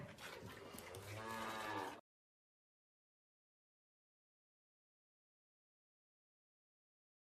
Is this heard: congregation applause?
no